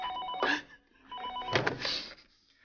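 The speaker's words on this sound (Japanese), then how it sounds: "高田先生お電話です" Office telephone ringing in a Japanese language school staff room, two bursts of a bell-like ring separated by a short pause, fairly close and clear with no talk over it.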